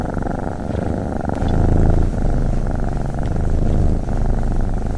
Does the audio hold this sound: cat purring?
yes